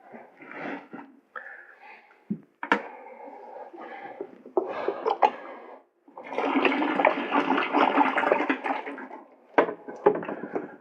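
Cold water from a winterized outdoor well gushes into a container in uneven bursts, with splashing and glugging pours broken by short pauses, heard close up and fairly loud.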